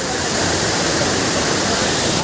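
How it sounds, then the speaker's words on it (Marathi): A steady, loud roar of falling water fills the whole clip, a dense continuous rush from the Subedar waterfall, swollen by sudden heavy rain. "तुम्ही बघू शकता इकडे किती पाणी पडतं प्रमाणात लय पाणी वाढलेलं आहे"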